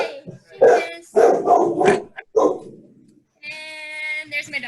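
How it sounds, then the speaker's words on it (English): A dog barks and yips several times behind someone speaking during an online chat, with short loud bursts mixed in among her words. "And there's my dog."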